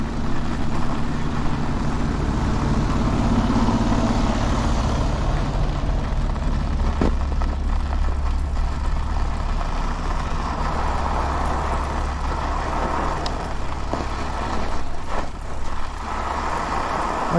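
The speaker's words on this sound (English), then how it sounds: "They got the trucks chained up." Trucks with snow chains on their tires idle on a snowy, icy road, giving a continuous low engine rumble. A louder passing swell rises midway, with faint intermittent clatter over the steady drone.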